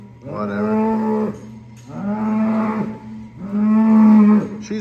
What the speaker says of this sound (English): a big white framey cow